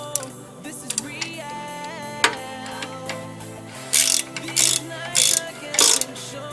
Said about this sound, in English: Now we're going to go around the oil pan and remove all the bolts holding it in place.